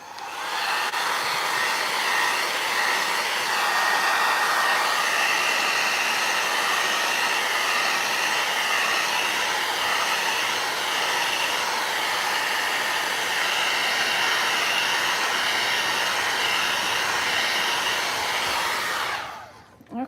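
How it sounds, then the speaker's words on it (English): Heat gun blowing hot air to dry paint on a suitcase, a steady loud whooshing roar that holds evenly for about twenty seconds before cutting off abruptly. "Figure out where my heat gun is."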